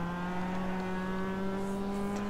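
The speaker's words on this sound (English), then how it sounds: "Absolutely ragging the engine around this corner." A Mazda MX-5 race car in iRacing at Okayama's short circuit holds a hard, sustained high-rev engine drone through a corner, steady and loud with no speech.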